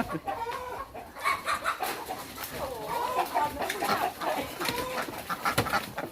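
Farmyard chickens cluck in repeated short calls, some near and some farther off, over rustling and background activity outdoors, with no clear talk.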